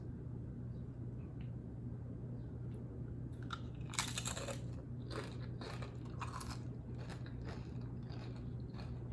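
Someone tastes a homemade cherry salsa compote, and a cluster of close, crisp crunching and chewing bursts comes through midway after a quiet stretch, with no talking.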